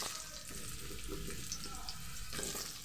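Potato pieces frying in oil in a pan seasoned with whole cumin and a dried red chili, for a ridge gourd, potato and fish curry; a steady, close hissing sizzle runs throughout with no talking.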